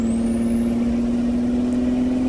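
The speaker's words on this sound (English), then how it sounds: "Revving the engine a little hard there" An American Truck Simulator game truck's engine is revved hard, holding a loud, steady high-pitched whine over a deep rumble for a couple of seconds, close and without speech.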